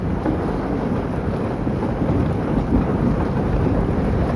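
Heavy rain pours steadily during a thunderstorm, loud and close. A dense, unbroken roar with a deep rumbling undertone runs throughout, and no one speaks.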